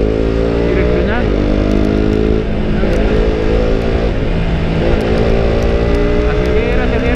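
KTM RC 200 motorcycle riding in traffic, its engine droning loudly and continuously with rising and falling pitch as it accelerates, eases off and speeds up again, close and steady throughout.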